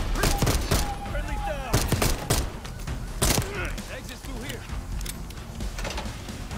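Bursts of gunfire in the Call of Duty video game, several sharp loud shots at irregular intervals over a busy game soundscape, with a voice talking at times.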